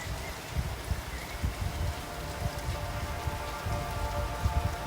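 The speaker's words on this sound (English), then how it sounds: "it's a rainy day and you can hear the rain from outside" Steady rain falls outside, a dense, even patter on surfaces that runs unbroken throughout, with soft low thumps from heavier drops and no talking.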